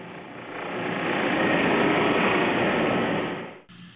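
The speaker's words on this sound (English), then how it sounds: "smooth them a bit on a rotary or belt sander" A rotary or belt sander runs on glue-caked plywood edges, a steady loud broadband whir that rises, holds for about three seconds and then cuts off abruptly.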